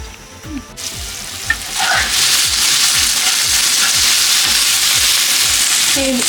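Bitter gourd fries in a pan, quiet at first, then a loud, steady sizzle swells in and continues with crackling throughout, close up and with no talking.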